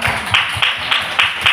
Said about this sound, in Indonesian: Berikan tepuk tangan untuk Ibu Aning Savitri.